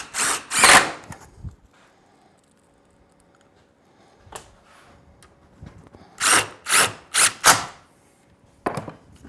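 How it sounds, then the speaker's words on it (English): A power drill drives small pan head screws into wood while building a crawl space hatch. Several short, loud whirring bursts come close up, with quiet pauses between them. "Then I'll use some little pan head screws to cinch this all together."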